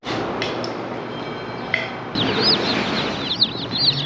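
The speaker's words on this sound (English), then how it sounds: "Lots of peeps, which is a good sign, healthy, happy." Newly arrived meat chicken chicks peep in a busy, overlapping chorus of short high chirps, growing denser and louder in the second half, with some rustling underneath.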